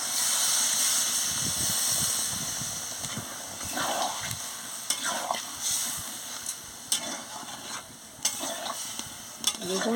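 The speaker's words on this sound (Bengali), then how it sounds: "এবার আমি পরিমাণ মতন জলটা দিয়ে দিচ্ছি।" Water goes into a sizzling soybean and papaya curry, with a loud hiss at the start that settles into quieter bubbling, broken by intermittent stirring clatter from a utensil in the pan.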